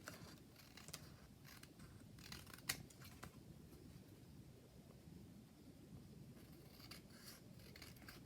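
Scissors snipping through glued paper while trimming a handmade Christmas card, a few crisp cuts over quiet background hiss with no talking.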